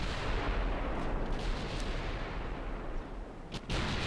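Heavy naval guns in a Japanese classic naval campaign game fire at cruisers, a dense rumbling barrage of booming shots, with a sharp cluster of blasts near the end.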